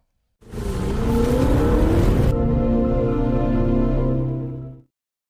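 A getaway car in a film, driven by two characters fleeing in a borrowed vehicle, gives a loud, close engine roar that revs up, holds, then cuts off abruptly, with no talking.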